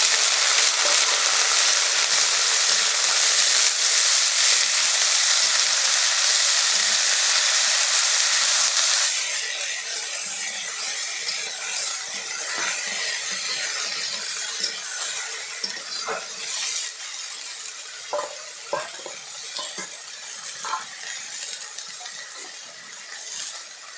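Washed dheki fern greens hit a hot oiled pan with a loud, steady sizzle that drops after several seconds into a softer crackle, punctuated by scattered pops and spatters from wet leaves.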